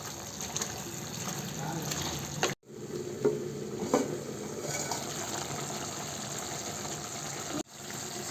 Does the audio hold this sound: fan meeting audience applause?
no